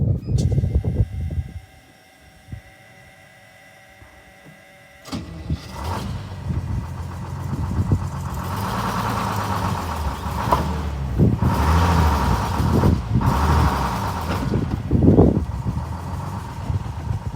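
A bus engine with no air pressure cranks, catches and runs, then revs loudly and steadily as it is driven up onto wood blocks under all four tires.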